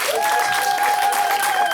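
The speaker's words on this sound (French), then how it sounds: "Applaudissez d'abord pour vous-même." Crowd applause at a political gathering installing a party coordination, dense and steady clapping close up throughout, with a sustained tone running beneath it until it stops abruptly.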